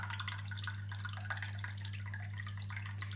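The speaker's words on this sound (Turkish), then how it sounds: "Hepsine de aynı yarım çay bardağı sirkemi koyacağım." Apple cider vinegar pours steadily into jars of pepper pickles in a home kitchen, a close liquid trickle and splash over a low constant hum, with no talking.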